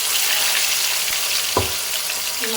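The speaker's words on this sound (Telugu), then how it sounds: "ఆ ఫిష్ ఇందులో బాగా ఫ్రై చేసుకోవాలి" Marinated fish frying in plenty of oil for a fish biryani, a loud, dense, continuous sizzle and crackle close up, with one brief knock of a utensil partway through and no talking.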